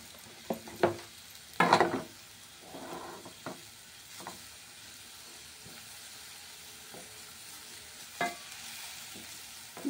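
Carrot and cabbage being stirred in a pan of oil with turmeric and salt: scraping, shuffling strokes come in short bursts over a faint sizzle, close and fairly quiet, with no talking.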